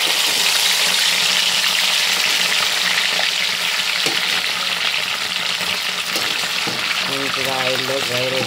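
Food deep-frying in a pan of hot oil gives a loud, continuous crackling sizzle throughout, with a few faint clinks and some quiet talk near the end.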